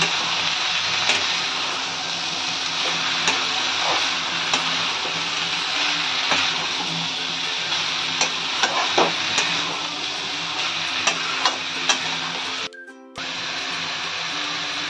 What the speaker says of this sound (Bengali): এইভাবে এগুলোকে মিশিয়ে নিতে হবে।